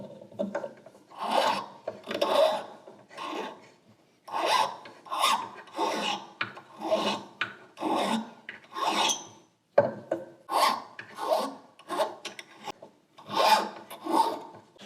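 A metal setting hammer is filed and rounded off in bursts of rough, close rasping strokes separated by short pauses, each burst holding several quick scrapes.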